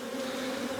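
Honey bees buzzing in an open hive during a hive check, a steady dense drone filling the whole short moment, close and even with no voices.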